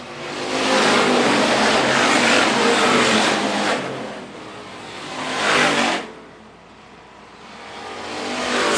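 Hobby stock race cars roar around a dirt oval track, a loud, sustained engine drone that swells and fades in waves as the pack passes close by.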